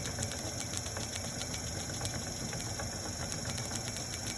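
A small test motor runs at very high RPM on an engineering demo bench, giving a steady, continuous mechanical whir with a faint high whine, close and unbroken, without any talking.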